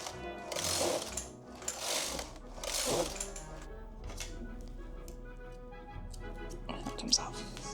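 A circular knitting machine carriage being cranked while knitting a sweater, giving a few loud rhythmic clattering passes followed by quieter ticking and rattling.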